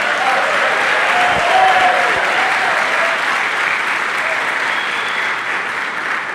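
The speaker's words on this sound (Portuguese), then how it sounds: "Dê um aplauso," A crowd applauds loudly and continuously, dense clapping that holds steady before easing slightly toward the end.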